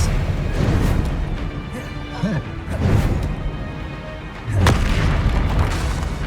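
Spellcasting in the video game Hogwarts Legacy, a run of heavy magical booms and crashes with whooshing bursts, loud and close, the strongest impact coming near the end over continuous game noise.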